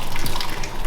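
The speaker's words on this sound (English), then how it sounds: "Potatoes done, so we're gonna drain the excess water out." Hot water draining off a pot of boiled potatoes, a steady close pouring rush with gushing splashes throughout, loud and continuous with no talk.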